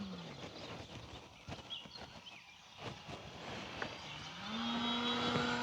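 An E-flite P-51D Mustang 1.5m RC plane engine starts low amid outdoor noise, then rises into a steady, climbing drone toward the end.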